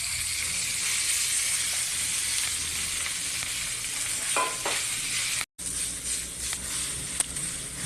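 Garlic fried rice sizzles steadily in a pan, a dense bright hiss with occasional stirring scrapes and a momentary break in the sound.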